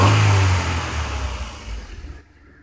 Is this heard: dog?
no